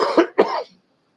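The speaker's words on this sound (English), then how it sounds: "I coughed." One person gives a short double cough, two sharp close bursts in quick succession followed by silence.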